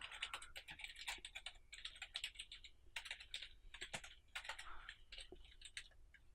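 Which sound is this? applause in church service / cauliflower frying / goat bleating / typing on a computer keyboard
typing on a computer keyboard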